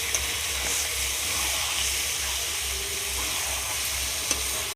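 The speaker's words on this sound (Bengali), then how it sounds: "পাশে গ্যাসে আলু ভাজা হচ্ছিল" Potatoes fry in hot oil on a gas stove, giving a steady, close sizzle and hiss with a low burner rumble beneath, continuous and unbroken, with no talking.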